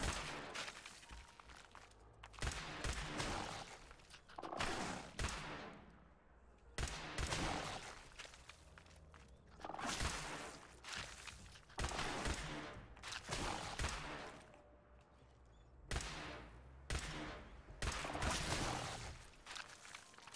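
Repeated bursts of gunfire in the Fallout 4 video game, loud and close, come as clusters of rapid shots separated by short pauses over about twenty seconds, with no talking.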